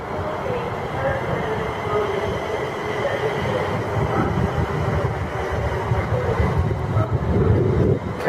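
A London Midland passenger train pulls into Milton Keynes Central station, a steady loud rumble of wheels and carriages rolling close by for the whole stretch, growing slightly louder toward the end.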